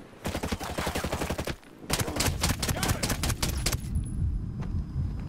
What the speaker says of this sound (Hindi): इसमें तो खतरनाक गोलियां पड़ती हैं